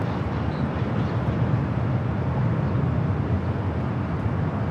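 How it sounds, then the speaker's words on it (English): A Southwest Airlines Boeing 737-700 arriving at Los Angeles International Airport gives a steady, broad, rumbling jet roar, loud and unbroken throughout with no voices. "This arrival, Southwest Airlines 1490 coming in from Sacramento, 737-700."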